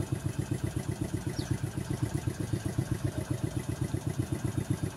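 A motorcycle engine idles close by, its low, steady chugging pulse repeating evenly throughout with no other sounds.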